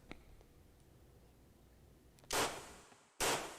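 Reverb-heavy gunshot effects in an edited intro, two loud sharp blasts close together, each ringing out briefly, the second following the first after a short moment of near silence, above a quiet steady hiss.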